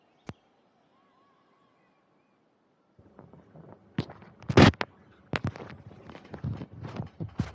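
Fireworks in Genshin Impact, with a lone pop, then a burst of crackling bangs and sputtering explosions of varying loudness after a quiet pause.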